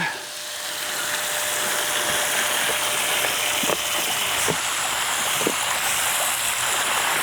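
Liquid pool shock poured into pool water as it fills, a steady broad splashing wash that runs the whole time with faint scattered clicks over it.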